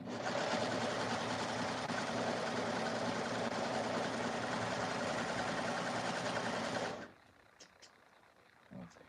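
A sewing machine stitches seams on a prom dress: a steady, fast mechanical whirring hum running continuously for about seven seconds, close and even, then stopping abruptly, leaving faint handling noise.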